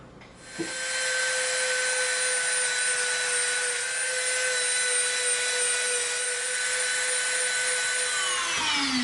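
A Dremel rotary tool grinds EVA foam in one continuous high whine that starts abruptly and holds steady and loud to the end.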